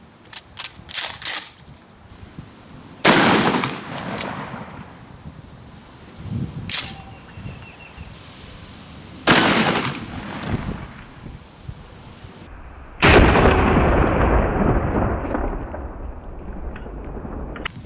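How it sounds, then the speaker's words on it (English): Outdoors, a shotgun fires a 1 ounce slug into a ham. A few sharp, loud blasts ring out with decaying tails over constant wind buffeting the microphone, and a long rushing burst of noise follows. "So now we're going to shoot the 1 ounce slug."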